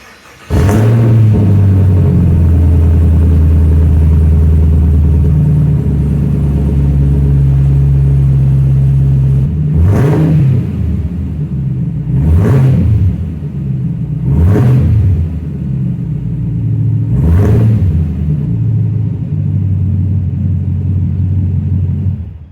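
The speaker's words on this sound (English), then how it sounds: "same cold start with no exhaust system on, just those resonators" A ZL1 Camaro V8 cold start with only resonators fitted: a loud, deep rumbling idle with several sharp revs rising and falling, no exhaust muffling, no talking.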